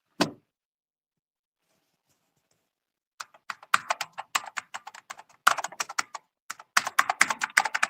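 Typing on a computer keyboard: one click, a pause of silence, then a rapid irregular run of close, crisp keystrokes.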